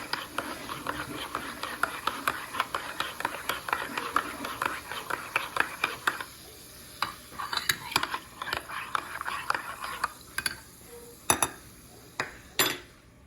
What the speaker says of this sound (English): Give it a stir so the flavor can get fully mixed